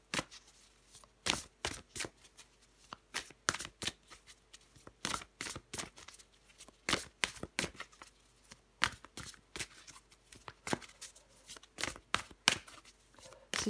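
Tarot cards being shuffled and handled, a dense run of sharp papery riffs and flicks repeating steadily near and close-up, with no voices.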